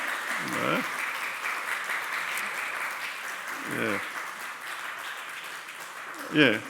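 A church congregation claps together at a Sunday service, a sustained wash of applause lasting several seconds, with brief voices heard over it.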